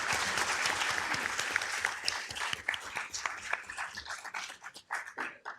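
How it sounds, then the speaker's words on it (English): Applause at a city council meeting for newly elected council members, a room full of hands clapping briskly, dense at first and then thinning into scattered claps toward the end. "let's give them both a round of applause"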